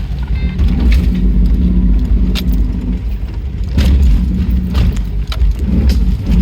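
A Holden Adventra or Toyota Fortuner four-wheel-drive engine rumbles steadily as it labours up a rough rocky step on a Victorian High Country track, with rattles and knocks from the vehicle over the rocks.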